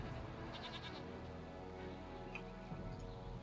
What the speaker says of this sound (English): Oh, we got some cool goats.